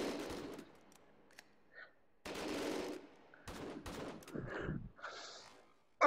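Gunfire from the VR shooter Hot Dogs, Horseshoes & Hand Grenades, played in an arena prototype on HTC Vive. A few short, fairly quiet volleys of shots break up stretches of near silence.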